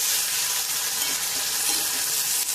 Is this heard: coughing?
no